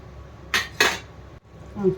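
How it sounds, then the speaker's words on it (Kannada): Rice tipped into a pot of mutton biryani, two quick close rattling bursts against metal in the first second, followed by a short clink and quiet. "ಈಗ ಇದಕ್ಕೆ ಅಕ್ಕಿ ಸೇರಿಸ್ತಾ ಇದ್ದೀನಿ"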